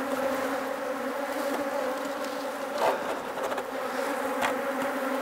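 Steady, dense buzzing of many honey bees at a hive, close and continuous, with a few louder passes of individual bees swelling briefly above the hum.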